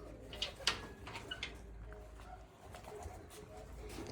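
Pigeons kept as racers coo softly in a loft, a few low murmuring calls near the start with steady background noise and faint movement throughout.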